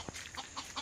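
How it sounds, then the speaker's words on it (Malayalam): Native free-range chickens clucking nearby, a few short repeated clucks spread across under a second of farmyard ambience. "തനിനാടൻ പ്യൂർ കോഴികളാണ്"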